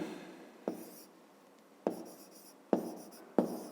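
Pen or pencil writing out a fifth-grade math exercise solution on paper, four short scratchy stroke bursts spaced apart with quiet pauses, close and soft, no talking.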